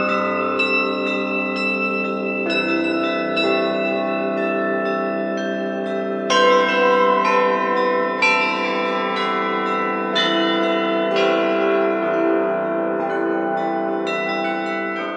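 Church bells ringing for Catholic church ceremonies, a series of clear struck tones with long ringing overtones, each stroke overlapping the last in a steady, unhurried pattern.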